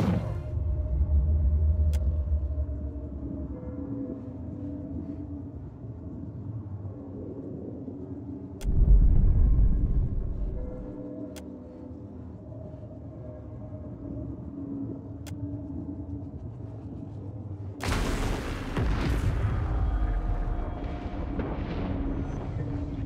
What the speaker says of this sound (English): The machine controlling the storm winds down.